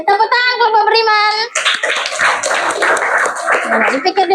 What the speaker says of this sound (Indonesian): Tepuk tangan kelompok beriman